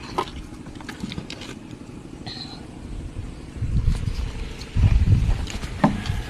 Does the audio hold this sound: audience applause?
no